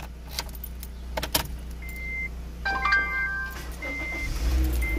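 A push-start button car with a key fob nearby: clicks and a jangle, then electronic chimes, and an engine turning over into a low idle rumble near the end, heard up close.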